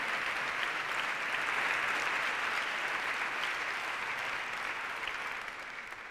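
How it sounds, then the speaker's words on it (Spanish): A Spanish audience applauds the organisers of a TED-style talk event, sustained even clapping from a large crowd that fades slightly in the final second. "un aplauso a toda la gente organizadora"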